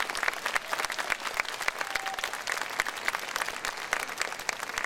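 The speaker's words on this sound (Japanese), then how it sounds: "もう一度盛大な拍手をお送りください。" Audience applause after a live performance by a Japanese women's orchestra: a full, continuous crowd clapping with crisp individual claps inside it, steady and close, with no voices.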